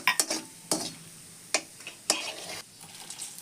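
Cinnamon frying in oil in a pan for a pea and potato kurma, with soft sizzling broken by a few sharp scraping stirs and knocks of a spoon, close and alone without speech.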